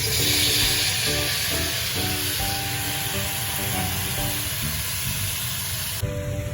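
Ivy gourd pieces dropped into a pan of fried onions, giving a loud, steady hissing sizzle that runs throughout and drops off abruptly near the end, with no talking.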